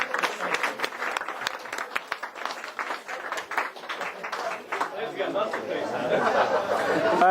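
At a small community gathering, people clap in a lively round of applause for an award, the claps loud and close, with chatter and chuckles mixed in and the crowd noise swelling toward the end.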